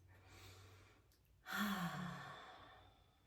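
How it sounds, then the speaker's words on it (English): A single slow exhale through the mouth during a guided breathing exercise, soft and close, rising suddenly midway and trailing off gently in a quiet room. "inhale through your nose, exhale through your mouth"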